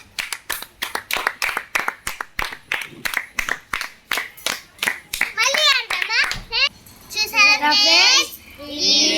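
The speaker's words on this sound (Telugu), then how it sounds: "క్లాప్స్ కొట్టండి" Children clap together for the winner of an indoor party game, a brisk run of about twenty loud, even claps, then excited children's voices and chatter take over.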